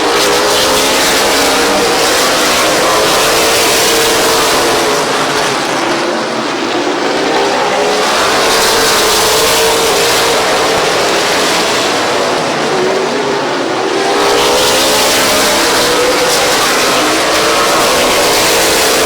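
Race cars at Midvale Speedway roar in a loud, continuous engine drone that swells and eases as the pack sweeps past, with no voices.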